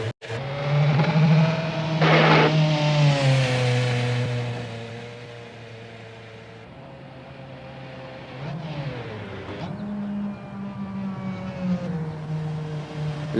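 A car in a video game drives off with a steady engine drone, its pitch rising and falling as it accelerates and shifts, fading somewhat into the distance before revving again, with no talking.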